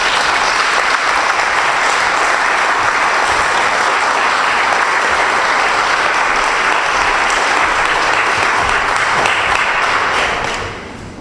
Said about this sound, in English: Well, you've all clapped